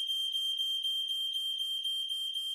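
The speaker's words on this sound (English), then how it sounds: "all of the alarms in my house just started randomly going off and we don't know why" Several household smoke alarms sounding together indoors, a steady piercing high-pitched beep pulsing in a rapid regular rhythm, loud and close, with no talking.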